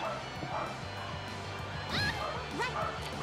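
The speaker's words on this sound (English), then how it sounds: "the dogs need to stop barking here soon" Dogs bark in the background of an indoor room, several quiet, scattered yips and barks at a distance beneath steady game sound.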